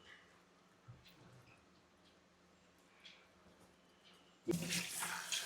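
Tap water at a kitchen sink rinsing a papaya: near silence at first, then a sudden loud, steady gush of running water fills the last second, with no talk.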